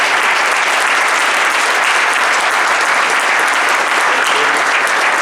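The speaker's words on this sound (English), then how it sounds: "Let's give a round of applause for our speakers." Steady, dense applause from a large audience, loud and sustained throughout with no pauses.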